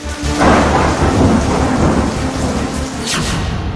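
Heavy monsoon downpour with thunder in Madhya Pradesh, a loud steady roar of rain with deep rolling rumbles and a sharp crack near the end, with no voices.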